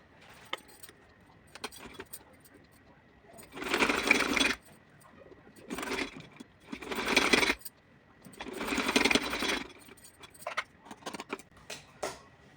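A sewing machine runs in several short bursts, stitching a simple strip onto a small doll's summer dress, close and fairly loud with quiet gaps between runs and no speech.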